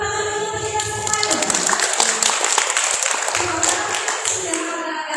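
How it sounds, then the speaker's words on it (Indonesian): An audience at a city job fair in a hall breaks into applause, dense continuous clapping that fills the room while a voice keeps talking over it. "Tepuk tangan untuk kita semua."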